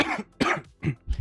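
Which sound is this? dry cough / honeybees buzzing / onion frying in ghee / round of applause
dry cough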